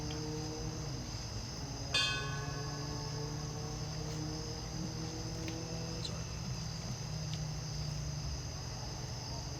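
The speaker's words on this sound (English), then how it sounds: "Phelan from the Miller Place Fire Department come up to ring the bell to pay tribute" A memorial bell struck once at a fire department 9/11 memorial ceremony in Rocky Point, its ringing tone lingering and fading over a steady outdoor hum with crickets chirping.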